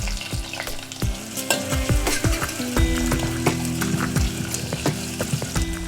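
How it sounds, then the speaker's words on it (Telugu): Sliced onion and mustard seeds fry in hot oil, giving a steady close sizzle broken by sharp pops and crackles and the occasional clink of a stirring spoon, with no talking. "ఆవాలు చిట్పట్లాడిన తర్వాత ఒక ఉల్లిపాయని పొడవా కట్ చేసుకొని వేసుకోవాలి"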